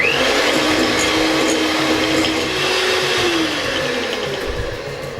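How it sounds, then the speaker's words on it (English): An electric mixer whirs continuously and fairly loudly as it creams a third of a cup of butter in a mixing bowl for an eggless red velvet cake, a steady motor drone that eases slightly toward the end. "adding 1/3 cup of butter to a mixing bowl and cream this well for about a minute"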